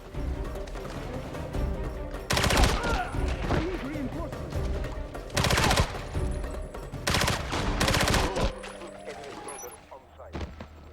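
MP7 submachine gun fire in 007: Blood Stone, several sharp, loud bursts spaced a few seconds apart over steady background noise, with a voice speaking between and under the shots.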